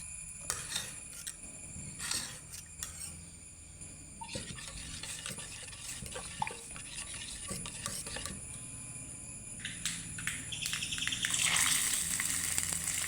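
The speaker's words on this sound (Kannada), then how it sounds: "ಮಜ್ಜಿಗೆಯನ್ನು ಸೇರಿಸಿ ಚೆನ್ನಾಗಿ ಕರಡಿಸಬೇಕು" A spoon stirs buttermilk into nerugala greens tambuli, giving soft liquid swirling with scattered clinks and scrapes against the vessel, close and moderately quiet, growing slightly louder and busier toward the end with no voices.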